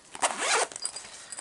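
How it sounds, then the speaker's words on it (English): The zipper on a soft carrying case is pulled closed in one quick, close rasping stroke, followed by faint handling noise. "and it zips."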